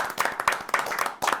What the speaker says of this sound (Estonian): teeme suure aplausi kaotajatele